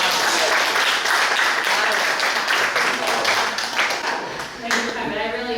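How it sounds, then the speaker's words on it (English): An audience claps for student work-based learning presentations. The applause is loud and dense, thins out near the end, and then a voice starts speaking. "big round of applause"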